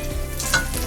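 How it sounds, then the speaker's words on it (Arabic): Potatoes sautéing in the same pan just used for minced meat give off a brief burst of close, crackling sizzle with a faint stirring scrape. "هنحط البطاطس نشوحها في نفس الطاسه اللي هي بتاعه اللحمه"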